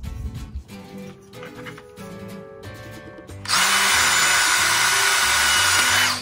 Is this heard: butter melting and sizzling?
no